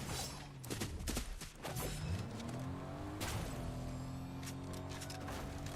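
Car in the Fortnite video game driving and revving, engine pitch sweeping up and down with sharp bursts of gunfire-like cracks mixed in, fairly close and steady.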